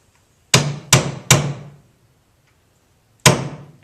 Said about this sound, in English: take a small punch and a little hammer